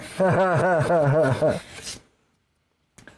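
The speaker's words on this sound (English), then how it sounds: "Ah, I hate hand sanding." Rhythmic back-and-forth rasping of 300-grit sandpaper rubbed by hand on a knife, steady strokes for a second or two, then stopping into near silence.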